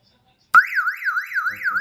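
After a brief silence an electronic fan-failure alarm in a closed-house chicken coop starts abruptly, warbling up and down in a fast repeating pitch sweep, loud and close.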